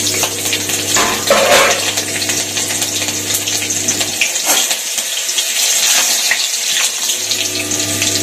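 Flat beans fry in a pan with nigella seeds and whole green chillies, making a steady, loud, close sizzling hiss that runs unbroken for several seconds under a low background hum, with no voices.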